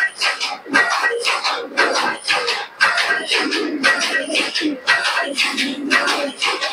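Pigeons of a prized fancy breed, Giribaz pigeons from Murshidabad, coo over and over in a close, steady series of soft throaty calls that fill the whole stretch with no talking.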